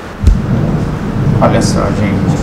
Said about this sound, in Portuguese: vocês vão ouvir um barulhinho de chuva aí no fundo